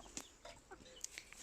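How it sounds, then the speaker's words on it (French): A Silkie hen with her chicks in a coop, giving a few soft, close clucks and faint chick peeps scattered through a quiet stretch. "La petite poule soie là qui a eu ses bébés, les petits."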